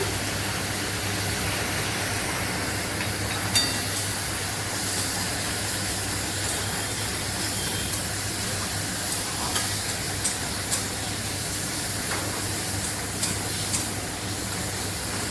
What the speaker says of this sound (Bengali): ভাজা হয়ে গেছে মশলা।